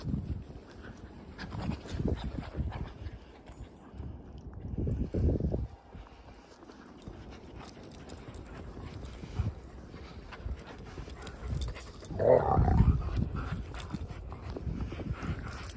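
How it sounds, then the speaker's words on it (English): Dogs growl while tugging and playing with a toy in snow, with low rumbling bursts, panting and scuffling close by, and the loudest growls in two surges. "No growling."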